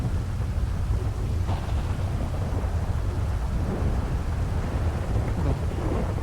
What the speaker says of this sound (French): J'avais pas souvenir qu'une tempête de ce genre devait arriver ce soir.